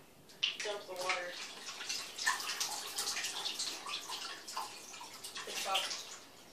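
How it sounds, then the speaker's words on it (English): A brand new bottle of water being dumped out, splashing and gurgling continuously into a sink or tub for several seconds, close and moderately loud. "Let's dump the water."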